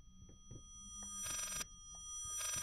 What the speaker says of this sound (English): a backwards phone ringing